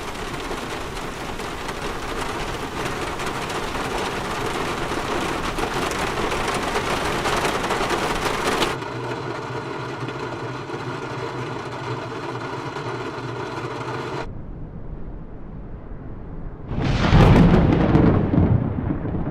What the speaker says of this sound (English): We also have rain, thunder, and even storm for a complete weather experience.